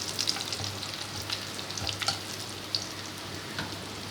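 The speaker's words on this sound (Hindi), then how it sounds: "तो हम ये सारे मसाले जो थे कुछ इसमें डाल देंगे और इसको अच्छे से भून लेंगे" Spices roasting with onions in a pan over low heat for spicy chicken dum aloo give a soft, steady sizzle with a few faint clinks of stirring. No one speaks.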